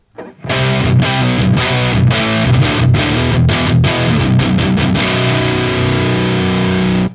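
Distorted electric guitar chords through a Hughes & Kettner Tubemeister 18 tube amp with a hollowed, scooped-mid tone, chugging rhythmically then ringing out into a sustained chord, loud and close.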